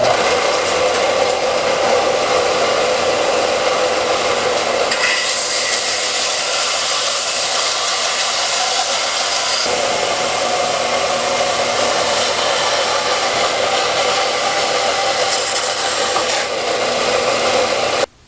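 A WEN air filtration unit runs at full blast in a workshop, a loud, steady broadband whoosh of fan and airflow that holds unbroken throughout, with no talking.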